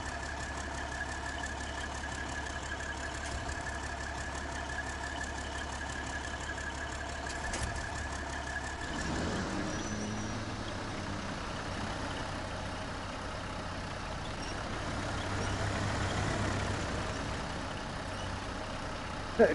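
A truck engine idles steadily in the SnowRunner video game, a low continuous rumble with a slight knock and a mid-clip shift in tone, with no talking.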